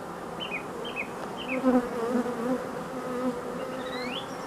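Honey bees mass inside a hive, producing a soft, steady buzzing hum with faint higher whines drifting over it.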